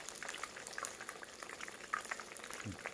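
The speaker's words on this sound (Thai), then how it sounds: "กำลังทอด" Batter frying in hot oil, a busy bubbling crackle with scattered sharp pops and spatters, steady and close, with a soft low knock near the end.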